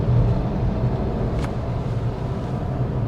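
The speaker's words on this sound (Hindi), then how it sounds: "आप देखिए गाड़ी में क्या आवाज़ आ रही है" Steady low road rumble fills the cabin of a Renault Kiger RXT non-turbo while driving, a constant drone with no speech over it for about three seconds.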